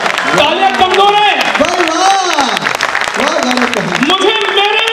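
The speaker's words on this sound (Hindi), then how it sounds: "तालियां कमजोर है" An audience at a patriotic Hindi poetry recital by a poet applauds while a voice talks loudly over the clapping throughout.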